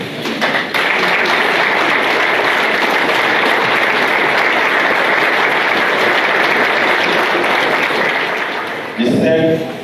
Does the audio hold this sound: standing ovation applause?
yes